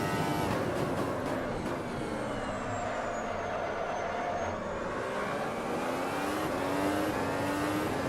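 A Formula 1 car from the Automobilista racing game on a flying lap at Montreal, its engine note climbing and shifting through gears in a steady, continuous high-revving drone with no voices.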